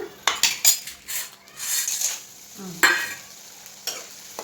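Edible gum frying in a pan of hot oil for North Karnataka gum laddoo, with a soft sizzle under repeated clinks and scrapes of a metal ladle stirring against the pan, no talking.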